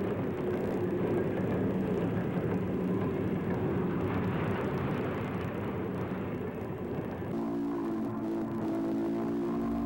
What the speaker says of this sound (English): Number 212 steams through Abbeys at night with train number 4.